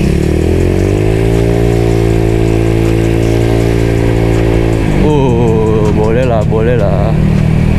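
A motorcycle fitted with a cheap copy CMS exhaust by DSM rumbles steadily at idle, then revs up in several rising bursts, loud and close.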